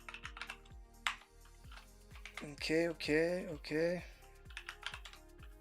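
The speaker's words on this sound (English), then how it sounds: "I hate typing because I can't talk when I type." Typing on a computer keyboard, with quick, close key clicks in uneven bursts and a brief spoken word in the middle.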